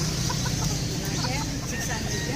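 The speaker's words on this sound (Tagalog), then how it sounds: "600 daw yung tandang." Chickens cluck in short bursts at a busy outdoor market in Angeles, set against loud, constant crowd and traffic noise.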